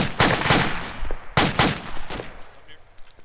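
Mortar and gunfire in the video game Arma come as two sharp bursts of rapid, cracking shots, loud and close with short decaying tails, the second burst thinning into scattered fainter pops.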